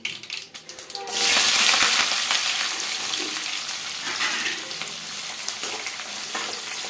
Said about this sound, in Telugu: ఇట్లా ఇంకా ఎర్రగడ్డలు వేసుకొని ఫ్రై చేసుకోవాలి